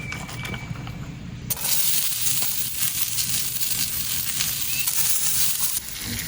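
Onions sizzle loudly on a Big Green Egg griddle, a steady close hiss that jumps up after a quiet start and holds dense and even for several seconds, with no talking.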